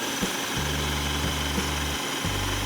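Ninja food processor pureeing soaked sunflower seeds into a dip, running in several short bursts with brief pauses between, a steady motor hum and whir at close range with no talking.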